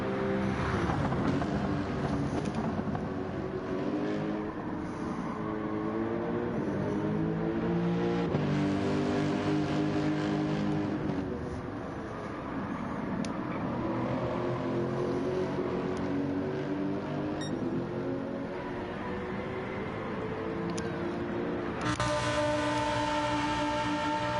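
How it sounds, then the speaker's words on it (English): A Lamborghini V10 racing engine in a racing game at Watkins Glen roars steadily throughout, rising and falling in pitch with gear changes, loud and continuous. "All you could really make out for a moment there was the bellow of Lamborghini V10."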